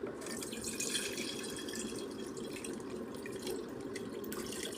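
Freshly squeezed lemon juice strained through a kitchen sieve, a soft continuous trickle and patter of liquid, close and quiet, with no voices.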